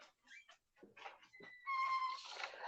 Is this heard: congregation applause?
no